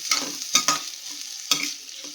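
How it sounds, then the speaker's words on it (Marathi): Rice with salt, cumin powder and coriander powder is stirred and sautéed in a pan for corn biryani, giving several scraping stir strokes over a soft, continuous sizzle, close and with no talking. "आपण सर्व तांदूळ याच प्रकारे परतून घेणार आहोत."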